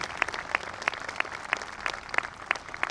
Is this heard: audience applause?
yes